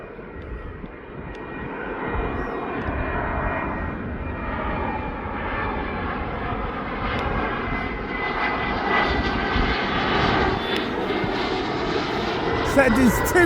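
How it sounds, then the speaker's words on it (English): VistaJet business jet engines at East Midlands Airport, a loud sustained whine and roar that builds gradually over time, with a voice talking over it. "So there's two of these VistaJets in East Midlands today."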